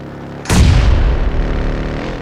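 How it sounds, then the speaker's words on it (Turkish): A grenade blast in PUBG Mobile goes off suddenly about half a second in, a single loud, close boom with a heavy low rumble that trails off over the next two seconds. "Kim attı o bombayı?"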